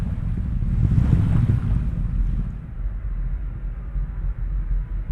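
An Atlas V rocket from United Launch Alliance, with an RD-180 main engine and solid rocket boosters, climbing in flight; a loud, continuous, deep roaring rumble with wind-like hiss, steady and unbroken, and no voices.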